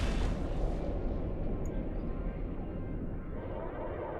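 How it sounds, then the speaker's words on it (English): A missile fired at an enemy ship in Eve Online: a loud rumbling launch and impact roar that slowly fades over a few seconds, heavy low-end boom with no talk over it. "Away with another missile."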